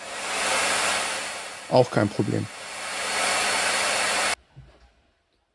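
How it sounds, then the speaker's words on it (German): A 1500-watt hair dryer runs off a DaranEner NEO2000 solar generator, a steady loud airflow whoosh that continues under a brief spoken remark and then cuts off abruptly, leaving near silence. "Dieser Föhn hier entnimmt 1500 Watt."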